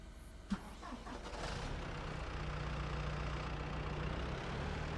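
A tractor engine in Farming Simulator 25 cranks with a short starter burst and then settles into a steady low idle that holds to the end, fairly quiet and with no talk over it.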